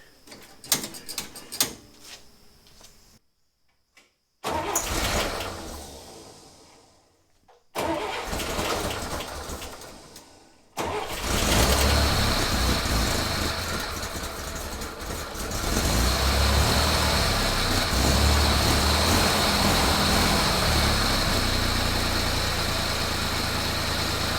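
A cold Chevrolet Corvair engine is cranked and catches after a few scattered clicks and short bursts, then settles into a loud, steady, close idle with a persistent whine that carries on alone for the rest of the clip.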